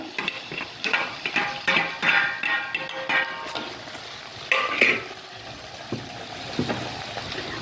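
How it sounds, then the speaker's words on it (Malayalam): Coconut pieces and onion sautéing in a pan for a clam roast, a loud close sizzle with busy scraping and stirring strokes throughout and no talking. "ആ തേങ്ങാക്കൊത്ത് ഇതിലേക്ക് ചേർത്ത് ഒന്ന് വഴറ്റി കൊടുക്കാം"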